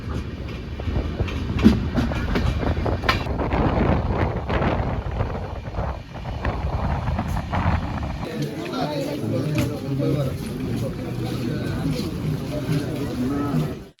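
A passenger train on the hilly Vizag to Araku mountain railway rumbles along the rails with steady clattering and wind noise, the sound shifting to a quieter, rattling carriage interior partway through.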